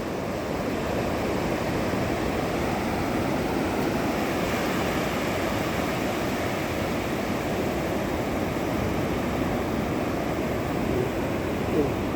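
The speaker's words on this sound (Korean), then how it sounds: "큰 파도가 왔을 때 안까지 물이 들어오네요" Sea waves wash steadily onto a beach at Qingdao, making a constant broadband rushing hiss with no distinct breaks, heard close and fairly loud and mixed with some wind noise.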